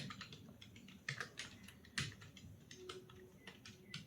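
Keys clatter on a computer keyboard during a typing test, a quick irregular run of close, light clicks with a few louder taps and brief pauses.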